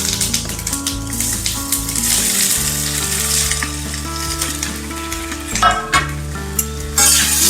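Spinach muthiya snacks frying and being stirred in a pan with loud, continuous sizzling and scraping, with music playing throughout.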